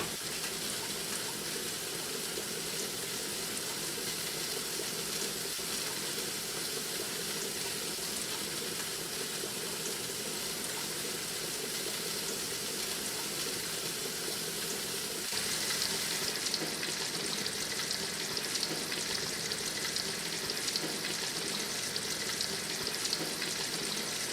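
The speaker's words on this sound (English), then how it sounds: "With that, I'm going to add some chicken to the pan." Chicken sautés noisily in a hot pan, a dense continuous sizzle that swells a little louder partway through.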